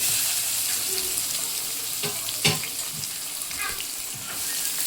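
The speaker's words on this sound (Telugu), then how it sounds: "గోల్డెన్ బ్రౌన్ వచ్చే వరకు ఆనియన్స్ని ఫ్రై చేసుకోవాలి" Sliced onions fry in hot oil tempered with coriander seeds and asafoetida for a brinjal and green peas curry, a steady hiss of sizzling with occasional stirring knocks.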